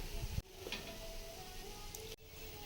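Sweet maida and wheat bondas fry in oil, giving a soft, steady sizzle with a couple of brief clicks and shifts as the fritters are turned.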